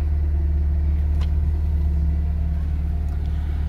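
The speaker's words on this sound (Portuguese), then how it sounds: "Lenta perfeita." A 1994 Fiat Tipo 2.0 SLX with a 2.0 eight-valve engine idles smoothly, a steady low rumble with an even, unchanging hum close by.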